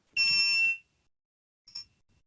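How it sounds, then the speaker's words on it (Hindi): A multimeter's continuity buzzer, used while testing a laptop motherboard for shorts, gives one loud steady beep of about half a second. After a pause, a second short, fainter beep follows. "बीप पर अगर कर दो तो बजर भी सुनाई देगा आपको"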